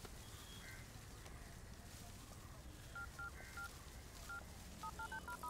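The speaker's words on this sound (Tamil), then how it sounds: "அஞ்சலிக்கு ஃபோன் பண்ணுறேன்டா" Telephone keypad tones beep as a number is dialed, a quick series of short electronic tones that speed up toward the end, faint over a murmuring background in a Tamil comedy film scene.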